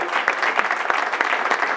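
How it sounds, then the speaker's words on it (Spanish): An audience at an anniversary presentation for the international Fitu hill climb breaks into applause, a short burst of many hands clapping together at a steady, fairly loud level, with faint voices beneath. "quiero pedirle un favor, que es darle un buen aplauso entre todos"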